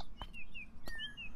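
A small bird chirps with a few thin, high tweets outdoors, faint and distant against a light background hiss, with two brief knocks in between.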